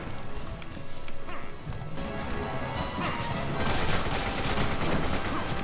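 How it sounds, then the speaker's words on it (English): AK rifle fire in the video game Resident Evil 5, heard as dense, rattling bursts of shots over busy game noise and clatter. The shots run steadily through the whole stretch. "I lit him up with my AK."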